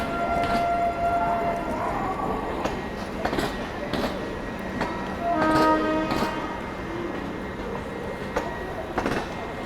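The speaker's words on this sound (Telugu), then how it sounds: "సో మన ట్రైన్ వచ్చి ఇది ప్లాట్ఫామ్ నెంబర్ 2." Continuous rumble of the Guntur Intercity train rolling in at platform 2, with metallic squeals and screeches of wheels and brakes sounding over the low drone.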